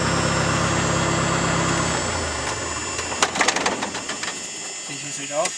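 Light aircraft engine idling after a soft-field landing: a steady low drone that fades away, then scattered clicks and handling noises in the cockpit.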